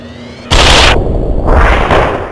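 A loud, close explosion and gunfire burst out in the video game Deus Ex Human Revolution, starting abruptly after a quiet moment and rolling on in a heavy, sustained roar that dips briefly and then swells again.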